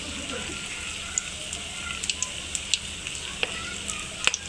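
Gram-flour battered potato chops fry in hot oil, giving a steady soft sizzle scattered with sharp pops and crackles that grow more frequent toward the end.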